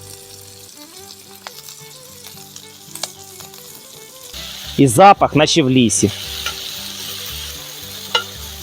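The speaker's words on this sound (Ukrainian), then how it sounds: "Сковорідка шипить, додаємо сальце" Continuous sizzle of pork fat frying in a pan, with stirring scrapes and background music, while a voice briefly talks over it near the middle.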